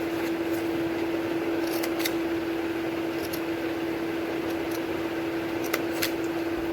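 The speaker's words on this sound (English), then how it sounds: "we will cut paper from one side and from another side." Scissors snip through paper while a DIY gift box is being made, giving a few light, scattered cuts over a steady electrical hum and room noise.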